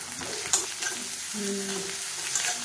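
Sliced eggplant frying in a hot pan for an Odia dish, a loud close sizzle with stirring and scraping throughout, a brief clink near the start, no voices.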